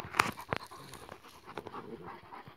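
A Kangal dog and a neighbour's dog panting and whimpering close by, with quick breaths and a couple of sharp yelps over a low background.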